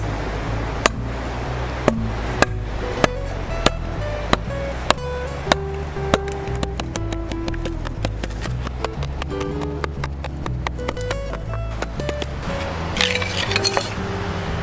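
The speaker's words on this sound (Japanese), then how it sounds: "次にね切った竹をナタで真っ二つに割っていきます。" A machete splits lengths of cut bamboo in half, giving a series of sharp, close cracks and clinks, some in quick runs and others spaced apart.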